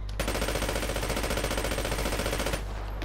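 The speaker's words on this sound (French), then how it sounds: "j'aime bien le bruit du rechargement à la fin sur le côté là" Sustained automatic weapon fire in a video game, a dense rapid stream of loud shots lasting over two seconds before stopping abruptly, with a short mechanical reload clatter at the very end.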